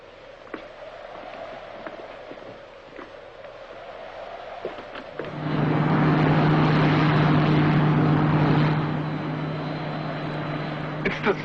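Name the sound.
Space Ranger ship Silver Moon landing, film sound effect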